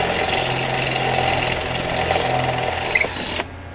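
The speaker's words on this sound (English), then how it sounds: "And then just find the center and start drilling it out." A steady whirring drill bores out a rivet on a 2019 Can-Am Maverick Trail skid plate at close range, its pitch holding even for several seconds before it stops abruptly near the end.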